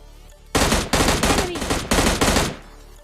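Automatic gunfire in PUBG Mobile Lite, loud close bursts of rapid shots in several rhythmic volleys separated by brief gaps.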